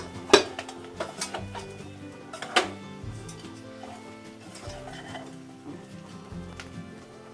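Telangana-style taro (chamagadda) pulusu being stirred in a pot, with a few sharp metallic clanks of a spoon against the vessel and soft scraping and mixing noises in between.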